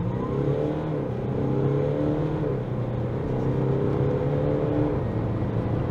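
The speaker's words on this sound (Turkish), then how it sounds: "Ve dip gaz." An Audi A5 Sportback 2.0 TDI Quattro diesel in dynamic mode accelerates hard at full throttle, its engine note climbing in rising sweeps that drop and climb again through gear changes, loud and close from inside the cabin.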